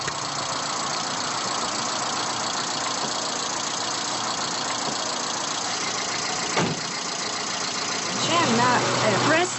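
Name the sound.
car engine idling during a stunt driving lesson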